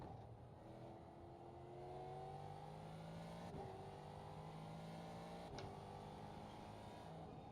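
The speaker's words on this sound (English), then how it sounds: "Car sounds nice." Ford GT3 race car in the iRacing simulator, its engine droning steadily and climbing in pitch through repeated gear changes, with a couple of quick shifts; faint and continuous.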